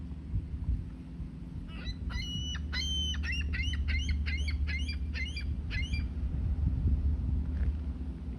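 Gulls at the Hudson River on a humid day let out a quick run of about a dozen loud squawking calls in the middle of the clip, over a steady low rumble.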